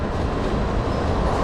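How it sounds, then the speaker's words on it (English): A slow passenger train moves along the line in India, producing a loud, continuous low rumble and rattling of wheels on track, close and steady throughout. "Most of the times I just use the slow train."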